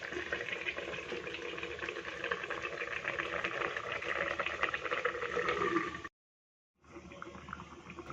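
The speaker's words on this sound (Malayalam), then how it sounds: "ഇതിലേക്ക് ഇനി ഇതൊന്ന് അടച്ച് വെച്ച് വേവിച്ചെടുക്കാം" Fish simmering with a little water in a covered pot, a steady soft bubbling and hiss held close for about six seconds, then a brief silence before the simmer resumes.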